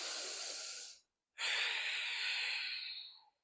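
Deep yoga breathing during a morning energizing exercise: one long, forceful, close breath, a short silent pause, then a second long, strong breath that tapers off at the end.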